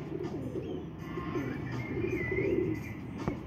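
Two pigeons perched nearby give soft, low cooing calls, repeated in a steady murmur against quiet background noise, with faint chirps above.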